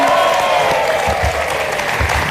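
Studio audience on a television talk show applauding for the band, a loud, dense burst of clapping with some low thumps underneath.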